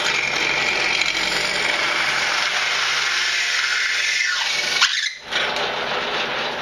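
A power drill whines steadily at a high pitch, then briefly bogs down and cuts out as the bit punches through the thin metal of a soda can, before resuming.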